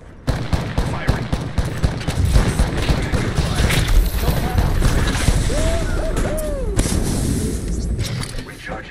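Gunfire in Apex Legends, a loud dense stream of rapid shots with booming impacts and crashes, continuous for several seconds, with voices talking over the action.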